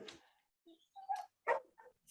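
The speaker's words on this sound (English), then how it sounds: "Sorry about the dogs in the background." Dogs bark in the background, a few faint, scattered barks and yips in irregular bursts across a couple of seconds, with no one talking over them.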